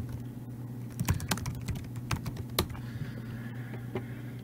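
Rapid, uneven keystrokes on a computer keyboard, close by, clicking in irregular bursts over a steady low background hum, with no one talking.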